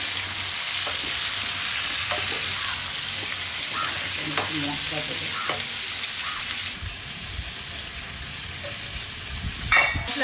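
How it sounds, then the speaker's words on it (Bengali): Mango pieces sautéed with jaggery in a pan for Bengali sweet mango pickle, a steady close sizzle with intermittent stirring scrapes, and a brief clatter near the end. "কষাতে কষাতেই আমটা অর্ধেক সিদ্ধ হয়ে যাবে"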